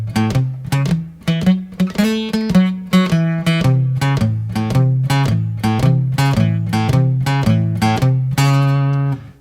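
Palm-muted guitar plays a walking blues rhythm, a steady chugging run of short damped notes climbing and falling in a repeating bass pattern, close and even with no talking.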